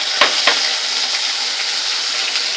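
Ginger garlic paste hits hot oil on a gas stove and sizzles steadily and loudly, with a couple of sharp spatula taps near the start.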